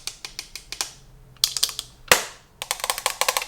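Tin makeup packaging, like eyeshadow palette cases, is tapped and handled close up, making bursts of sharp, light metallic clicks and taps separated by short pauses.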